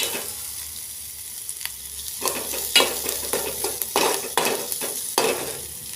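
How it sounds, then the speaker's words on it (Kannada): Onions frying in oil in a pan, with a steady sizzle and repeated scraping and stirring clinks of a utensil, close and moderately loud, no talk. "ಉಳ್ಳಾಗಡ್ಡಿನ ಚೆನ್ನಾಗಿ ಫ್ರೈ ಮಾಡೋಣ"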